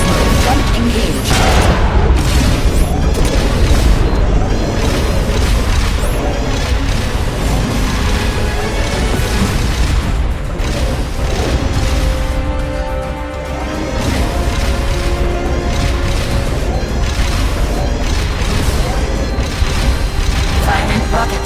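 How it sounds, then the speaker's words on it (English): Rocket launcher fire and explosions from a Metal Gear video game, loud and dense throughout with bursts, whooshes and crashes layered over game music and effects, while a voice speaks in the mix. "Firing rocket launcher. Firing rocket launcher."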